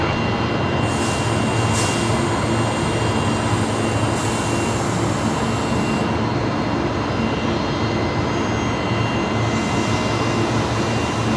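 An Airbus A350-900 landing on the left runway at Brisbane Airport, a steady, loud roar of jet engines and rushing air that fills the whole stretch without pause, with no talk over it.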